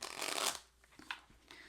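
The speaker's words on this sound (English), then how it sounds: "That was a terrible shuffle." Tarot cards are riffled in a quick, loud burst of shuffling for about half a second, followed by a few softer card taps and slides.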